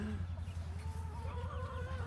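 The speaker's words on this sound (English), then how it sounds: "Look at this chicken." A chicken held in a bucket on an off-grid Alaska homestead clucks steadily and close by, a continuous stream of soft low clucks with faint background noise.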